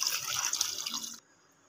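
Water pours from a large jug into a cooking pot of mutton trotters for a Mughlai paye curry, a bright splashing stream that runs steadily and then stops abruptly, leaving near silence.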